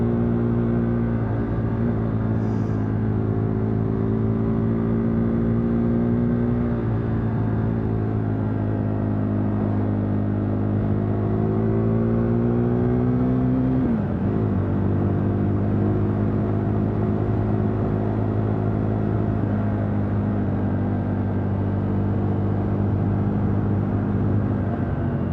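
KTM 390 Duke motorcycle engine droning steadily while riding, with a dip and rise in pitch near the middle as the throttle eases and opens again, continuous and close with wind rumble.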